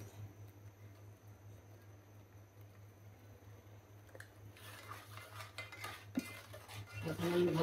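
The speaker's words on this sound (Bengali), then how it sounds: "আমি ভালো করে একটু কষিয়ে নিই।" A pan of spicy Bangladeshi-style fish curry with turmeric and chilli is stirred and sautéed, a steady low hum giving way to clinks, scrapes and soft sizzling that build louder in the second half, with no talking.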